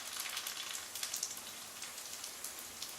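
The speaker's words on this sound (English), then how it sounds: "They're starting to sizzle." A soft, steady crackling sizzle of spinach and cream cheese ravioli frying in oil in a pan, with small irregular pops scattered throughout and no voices.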